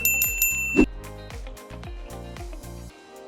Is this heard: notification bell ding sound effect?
yes